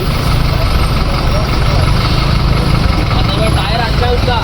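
A car stuck in mud with a tyre caught strains as its engine roars loudly and continuously, the droning revs filling the whole stretch while voices seem to mix in underneath.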